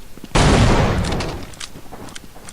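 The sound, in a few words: scripted explosion in video game Final Frontier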